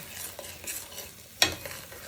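A spoon stirs broth into vegan risotto in a sizzling pan, with soft scraping strokes over a faint frying hiss and one sharper knock of utensil against the pan partway through.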